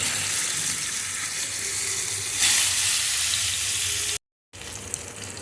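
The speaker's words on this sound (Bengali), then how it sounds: "মাছগুলো ভাজা হচ্ছে।" Fish frying in a pan for shorshe bhola, a loud, steady, hissing sizzle close up that swells briefly, cuts out for a moment, then resumes, with no talk.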